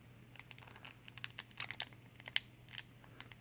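A sealed Star Wars CCG Premiere booster pack wrapper being torn open, with quiet, close crinkling and sharp tearing crackles in irregular bursts, alone with no talk.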